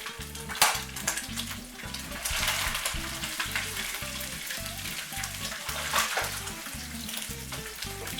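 Two pounds of Jimmy Dean's Italian sausage sizzles and fries steadily in a pan, a dense continuous crackle with occasional stirring scrapes, close and fairly loud with no talking.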